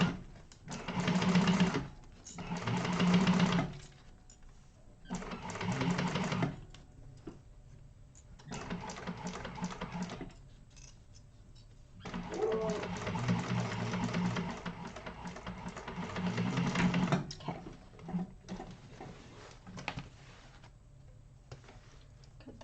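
A sewing machine top stitching a Zynah bag runs in several bursts of steady rapid stitching, pausing between runs with quieter handling sounds, close and alone with no talk.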